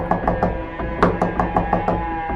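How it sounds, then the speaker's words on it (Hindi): A door is knocked on hard and loud, a rapid series of about eight sharp raps in two quick bursts, a staged sound effect in a horror story. "और ज़ोर से नॉक किया।"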